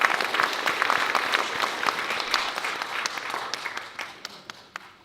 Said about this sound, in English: A big of applause to Tan Sri Wan Zahid